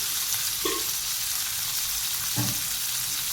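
Onion frying in hot oil with cashews and green chillies, a steady close sizzle with a couple of soft clinks of stirring, no voices.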